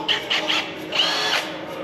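A high-speed power drill bores into quarter-inch steel plate lubricated with cutting oil, close and steady, with a few short whining surges as the bit bites.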